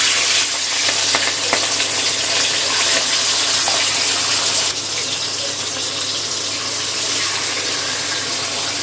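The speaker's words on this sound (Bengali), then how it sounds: "গ্যাসটা কমিয়ে রেখে মাছটা তেলের মধ্যে দিয়ে দেবো।" Katla fish sizzling as it goes into hot oil in a kadai over a low gas flame, a loud continuous crackling fry that drops slightly in intensity partway through and then keeps bubbling steadily.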